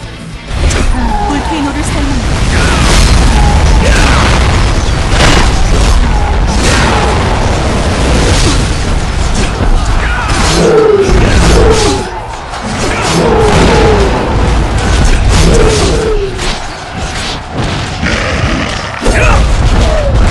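Fiery Volcano skill blasts go off on a Kingdom Under Fire 2 battlefield, producing repeated loud booms and crashing bursts over a constant roar of combat, with voices speaking over the din.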